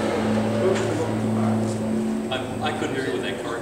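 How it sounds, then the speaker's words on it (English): A car drives past on a rural Ohio road, its engine hum rising and fading as a steady, fairly loud drone that masks the quieter sounds around it. "I couldn't hear you with that car going by."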